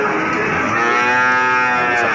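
A Limousin cow moos at Wonoasih cattle market in Probolinggo, a loud sustained, close low call lasting the whole moment, with no talking over it.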